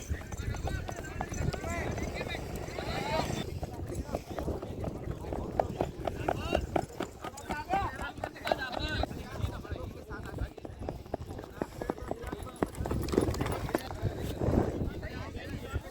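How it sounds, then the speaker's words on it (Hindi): Horses in a race in Kutch, Gujarat, with many horses coming forward on dusty ground, make constant drumming hoofbeats close by. Someone talks over the noise throughout. "काफ़ी घोड़े आगे हैं और भी घोड़े आ रहे हैं।"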